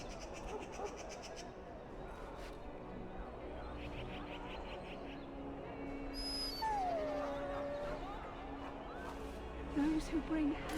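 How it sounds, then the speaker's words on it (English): A puppy in Dragon Age: Origins gives faint yips and whimpers amid game ambience, with a rising-falling whine and short high cries near the end, while a voice speaks over the scene. "Puppy!"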